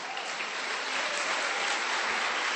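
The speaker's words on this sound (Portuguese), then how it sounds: "E dê um aplauso a esse Deus, amado." A church congregation applauds at a Sunday service, giving a continuous, even wash of clapping from a large crowd that holds steady without pauses.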